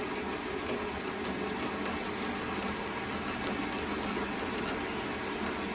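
A homemade lathe runs at a steady speed while a wrench for a Daiwa MonoCoque reel is being made, giving a continuous close mechanical whir and hum with an even, unbroken drone and no talking.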